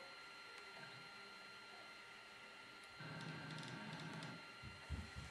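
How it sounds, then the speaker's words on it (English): A 3018 CNC machine homes its axes, the Z-axis stepper motor whining steadily as it drives upward, then growing louder and rougher partway through, ending with a few knocks. "The Z-axis moved all the way up. The limit switch clicked. But the stepper motor kept trying to move the Z-axis up"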